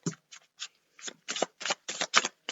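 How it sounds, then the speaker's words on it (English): A deck of oracle cards is shuffled by hand in quick, papery riffling bursts, with several short rustling bursts separated by brief pauses, close and fairly quiet. "These cards are like, I don't really need to shuffle them the way I shuffle"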